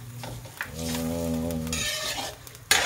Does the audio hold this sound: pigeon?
no